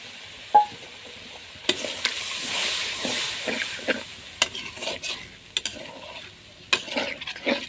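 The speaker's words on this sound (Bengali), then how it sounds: "এটাকে আমি একটু ভালো মতো কষাবো" Spices and yogurt stir-fried in a pan for chicken biryani, a steady close sizzle with repeated scraping and clacking of the spoon against the pan.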